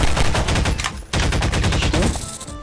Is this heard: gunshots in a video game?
yes